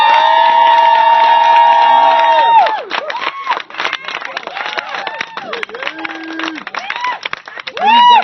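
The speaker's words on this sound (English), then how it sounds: "Mayor Vincent Gray, give a round of applause" A crowd at an outdoor civic proclamation event with the mayor breaks into cheering and shouts, opening with sustained loud voices and then trailing into scattered clapping, whoops and chatter before a brief final swell.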